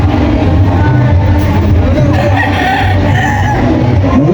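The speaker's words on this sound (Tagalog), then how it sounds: "Yung mga manok dito." Chickens clucking at a crowded poultry fair, loud and close amid a busy crowd murmur with scattered calls and crowing, the birds mixed into constant background noise.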